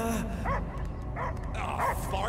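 A dog gives short bow-wow barks and yips in bursts, with a whimpering edge, set against a low rumbling background with some voice-like sound mixed in.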